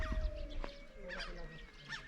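Birds honking over the high, dry Upper Mustang landscape, a few faint scattered calls against quiet wind.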